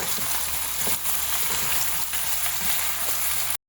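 Tomato hits a hot pan of chicken udon ingredients and sizzles in a steady, close frying hiss with faint stirring clicks, no voices, cutting off abruptly at the end.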